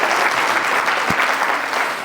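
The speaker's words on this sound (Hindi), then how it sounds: "तो एक बार जोरदार तालियां पुष्कर सर के लिए भी।" Audience at an awards night applauding loudly, dense continuous clapping from a large crowd that stays strong for the whole stretch and tapers only slightly at the end.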